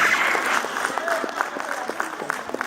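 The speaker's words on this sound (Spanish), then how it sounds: "Fuertes aplausos." Applause from an audience after an emotional thank-you at a ceremony, a steady close patter of clapping with a few sharper individual claps and a voice speaking over it.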